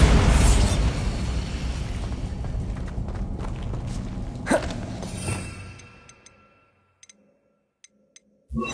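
Bombarda blasting spell in Hogwarts Legacy: a loud rumbling explosion that decays over several seconds, with a sharp crack near the middle, fading to near silence broken by small ticks and a final thump.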